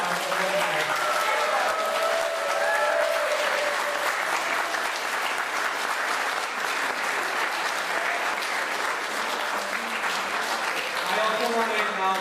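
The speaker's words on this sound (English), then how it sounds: "Let's give one round of applause for every one of our award." A crowd at a school awards ceremony claps in sustained, even applause for over twelve seconds, dense and fairly close, with a few voices mixed faintly underneath.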